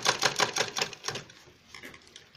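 A sewing machine stitches a fabric bag with a zip pocket in a rapid, even run of needle strokes that slows and stops halfway through, followed by a few softer mechanical clicks, close and clear.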